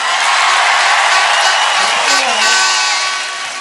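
A large crowd at Chennai Marina applauds and cheers loudly in a continuous, wide roar of clapping and whoops, fading slightly at the end.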